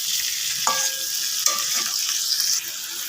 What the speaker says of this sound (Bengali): মালাইকারির চিংড়ি মাছ বেশিক্ষণ ভাজতে নেই, সেই জন্য আমি হালকা করে ভেজেই তুলে নেবো।